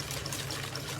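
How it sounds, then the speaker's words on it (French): Melted butter poured into magic cake batter, a soft steady trickle lasting about a second at low level with no voices. "Maintenant, on va ajouter le beurre fondu"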